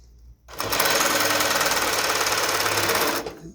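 A Sewtech ST-1900-AS sewing machine runs in one steady burst for about three seconds, stitching a taped seam with a fast, even mechanical chatter, close and loud.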